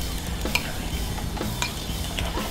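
Sausage gravy with butter stirred in a hot pan on a flat top, soft sizzling under irregular scraping and clinking spoon strokes against the pan, close and fairly quiet.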